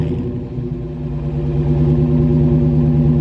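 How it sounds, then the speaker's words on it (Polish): A Dodge Challenger T/A V8 idling just after starting, a loud, close, deep rumbling burble with a steady throbbing pulse that swells slightly and then holds even. "Start silnika."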